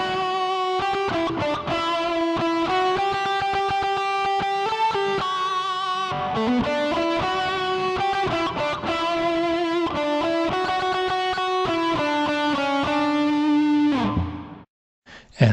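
Electric guitar playing the fast closing section of a solo, a long run of rapid repeated picked notes, loud and continuous before a brief drop near the end.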